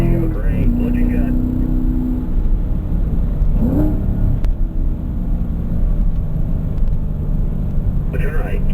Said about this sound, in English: Add the throttle, fifth gear.